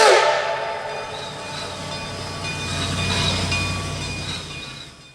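Narrow-gauge steam locomotive 487 hauling wooden passenger cars as it reaches the summit on the Cumbres and Toltec Scenic Railroad, heard as a steady loud rumble with whistle-like tones, swelling then fading.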